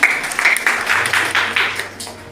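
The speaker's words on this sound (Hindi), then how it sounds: "तालियां" A classroom of students clapping in a short burst, scattered hand claps that thin out and fade after a couple of seconds, fairly close.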